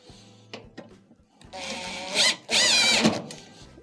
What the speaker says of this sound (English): Once you have it into place, we will reinstall the screw.